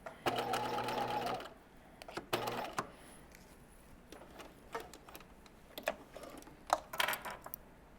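A sewing machine stitches in the ditch along a seam on cigarette pants, a fast, steady mechanical whir in two short runs near the start, then quiet with small handling clicks and taps.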